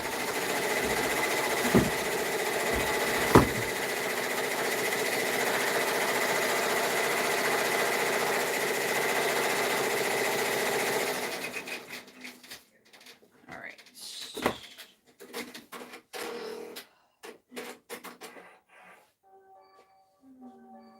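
A machine-embroidery run on fabric for small orders gives a steady mechanical whir with rapid stitching rattle for about eleven seconds, then stops, leaving scattered handling clicks and knocks.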